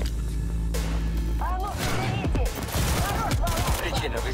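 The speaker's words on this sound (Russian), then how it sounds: "А, пистолет сам стреляет." In the Cyberpunk 2077 video game, a pistol fires by itself: a sharp shot breaks out amid heavy game effects and a loud low rumble, followed by clattering impacts and warbling electronic tones, with someone talking over it.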